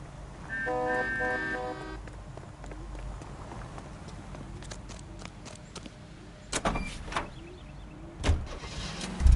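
Car engine and motion in LA Noire, a steady low rumble with a brief tonal chime early on and a few sharp bumps or door-like knocks toward the end; no talking.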